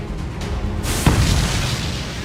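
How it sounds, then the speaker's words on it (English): Supernova explosion sound effect in a space science documentary: a deep, loud boom strikes about a second in, swelling into a broad rumbling roar that sustains and slowly fades. "This giant explosion catapults a huge wave of gas across the galaxy."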